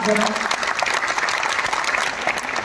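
An audience at a poetry recital in Jaipur gives loud, sustained applause to welcome the poet, with a voice talking over the clapping throughout.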